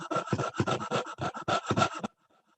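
Close hand-sawing of a basic metal shape: about nine quick, rasping back-and-forth strokes in a steady rhythm, stopping abruptly into silence.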